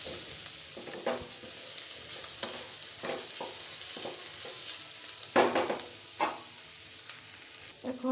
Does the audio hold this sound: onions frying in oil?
yes